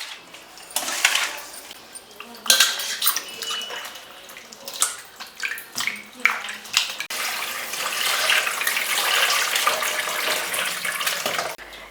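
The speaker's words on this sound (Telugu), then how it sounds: "సో ఇట్లా క్లీన్ చేసుకొని 2 to 3 టైమ్స్ వాష్ చేసుకోండి" Bommidayalu fish being washed by hand in water after cleaning with salt, with splashing, sloshing and running-tap gushes in irregular bursts close by, ending in a steadier stream.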